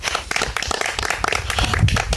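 Group of people clapping together at a village community meeting, a dense burst of hand claps lasting about two seconds, fairly close and steady, with a low murmur of voices underneath.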